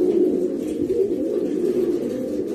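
Pigeon breeding stock in a loft, a stud male among them, cooing in a steady continuous low murmur that stays close and fairly loud throughout.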